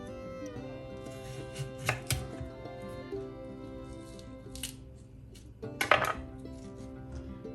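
A kitchen knife slices through a young chow-chow (chayote) on a board, giving a few crisp, separate cuts close by, with short pauses between strokes and no talking.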